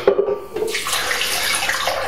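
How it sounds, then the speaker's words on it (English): Filtered water pours steadily from a container into a blender holding almonds, a continuous close splashing rush that deepens slightly as the jar fills, with no talking. "here I'm adding filtered water."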